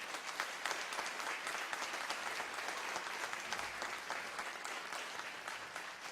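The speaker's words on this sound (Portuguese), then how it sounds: "a quem peço uma calorosa salva de palmas" Warm, sustained applause fills a hall during a solemn legislative session honoring lawyers, a dense steady clapping crowd heard at moderate distance with no break for about six seconds.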